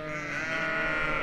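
A flock of sheep arriving to join a herd bleats continuously, many overlapping voices forming a loud, steady chorus close by.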